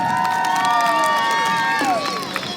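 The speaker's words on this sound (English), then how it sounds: "let's give a big round of applause to the Livestock Conservancy and all the breeders" Crowd cheering and applauding at a pig race at the Santa Barbara Fair and Expo, a steady, dense wash of cheers and shouts with whistle-like high tones, lasting the whole stretch before easing off near the end.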